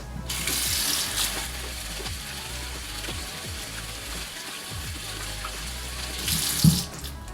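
Tap water runs steadily into a sink while lavender-scented body wash is rinsed away, a continuous close splashing hiss with slight shifts as hands move through the stream.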